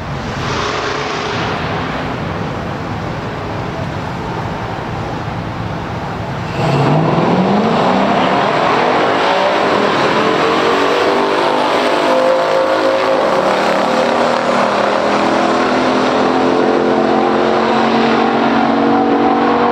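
A stock 1970 Hemi Cuda and a 1971 Buick GS 455 drag race on a strip: engines rumble at idle, then burst into a loud launch, with rising revs and gear changes roaring on for the rest of the run.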